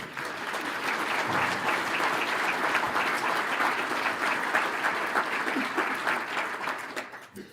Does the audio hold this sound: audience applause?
yes